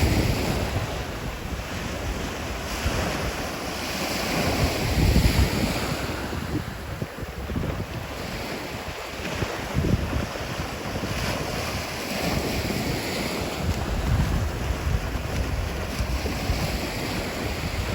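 Surf washes steadily onto a Sanibel Island beach, a broad continuous roar of breaking waves with gusts of wind buffeting the microphone, no voices.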